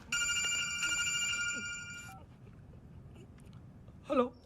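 A telephone rings in a Hindi-dubbed action movie scene, a bright electronic trill sounding for about two seconds then cutting off, followed by quiet room tone and a brief voice near the end.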